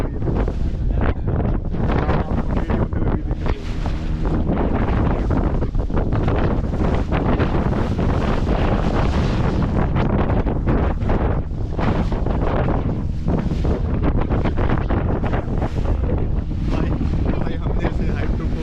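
A small boat pounds through high sea waves off Pondicherry as strong wind buffets the microphone in a constant loud roar, with water rushing and slapping around the hull and faint voices underneath.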